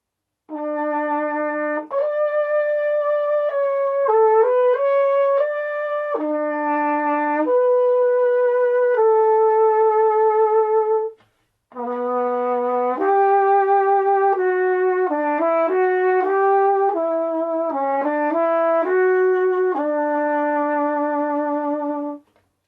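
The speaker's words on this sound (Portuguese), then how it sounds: "Então esse é o som do flugel" A solo flugelhorn plays a slow, mellow melody of sustained notes, clear and close, pausing briefly halfway before continuing the phrase.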